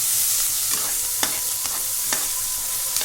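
Onions and green chillies frying in hot oil, a steady bright sizzle broken by a few sharp scrapes of a spoon stirring the pan, close up with no talking.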